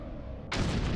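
Gunfire in Garry's Mod sandbox gameplay: a sudden broad burst of shots erupts midway and rumbles on loud and continuous to the end, with no talking.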